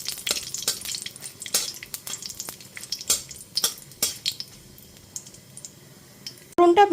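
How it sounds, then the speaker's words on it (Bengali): Black cumin seeds and two dried red chillies fry in hot mustard oil, scattered sharp crackles and spatters with light stirring clicks, close up, then a brief louder clatter at the very end; no speech. "ফোড়নটা হালকা করে ভেজে নেব।"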